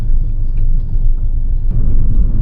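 A Mini Cooper S engine produces a steady, loud low rumble up close, with a slight swell in throttle near the end and no voices over it.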